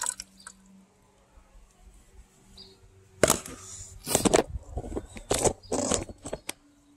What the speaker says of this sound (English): So I'll just decant it here into this thing.